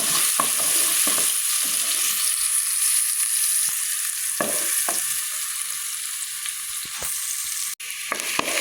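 Onions sizzle steadily in a hot cooking pot while making lugaw, a constant bright frying hiss with occasional soft clicks of stirring.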